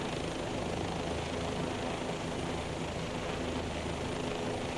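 A helicopter flies over Providence in Microsoft Flight Simulator 2024, a dense, continuous rotor and turbine roar that stays loud and unchanging throughout, with no other sounds.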